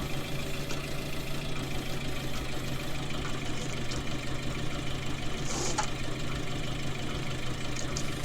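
A farm tractor that is due for a service idles steadily during bale carting, its engine holding a constant, even chug for over eight seconds with no voices.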